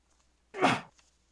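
A single sharp human sneeze indoors, close and abrupt, bursting out of near silence and fading quickly.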